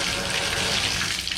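Hot water runs steadily from a bathroom tap in a mobile home, a constant close broadband rush with no talk over it.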